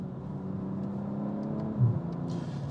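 A BMW M240i engine hums and works steadily from inside the cabin, its note boosted by augmented sound played through the car's speakers, giving a continuous low drone with a brief deeper swell near the end.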